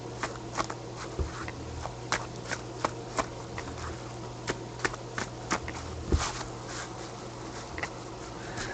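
Trading cards from a 2013-14 Titanium box break are shuffled by hand, giving a series of soft, irregular snaps and flicks close by over a low, constant electrical hum.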